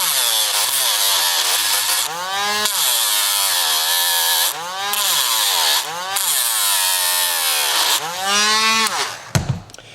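A rotary grinder bites into the metal body of a Hot Wheels die-cast car, whining at high pitch in repeated rising and falling passes that dip when it lifts off, close and loud, with a knock near the end and no speech.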